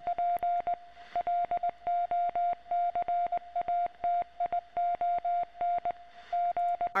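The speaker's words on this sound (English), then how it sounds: "you would need Morse code, and it's going to give you coordinates" A Morse code radio transmission from the video game Secret World Legends: a clear, steady tone beeping in quick bursts of short dots and longer dashes, loud and isolated against a quiet background.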